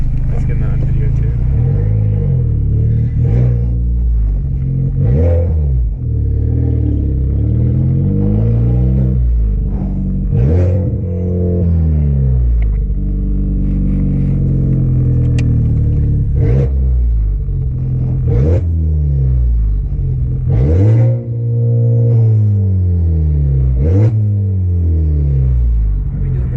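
Honda Civic Type R FK8 and Civic Si FC1 with open front-pipe exhausts rev repeatedly at an apartment lot, loud rising and falling engine blips with deep rumble, people talking over the sound.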